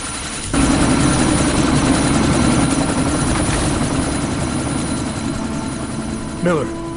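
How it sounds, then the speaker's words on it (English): A video-game helicopter about to take off gives a loud, steady rotor thrum and engine roar that starts abruptly and holds throughout, with a brief shout near the end. "That chopper's about to take off!"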